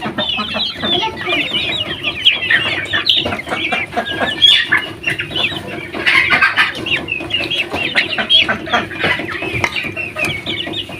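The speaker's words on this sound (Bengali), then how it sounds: "আমার এই মুরগির ঘরে মিশে থাকে তো হাঁস, ডিমের হাঁস" Chickens and egg-laying ducks kept together in a poultry house fill the space with dense, continuous clucking and calls, many birds overlapping at close range for the whole stretch.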